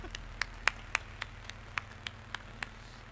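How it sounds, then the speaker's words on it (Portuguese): Sparse clapping from a small audience at a video game music band concert, about a dozen distinct evenly spaced claps over a low steady hum. "uma salva de palmas para eles"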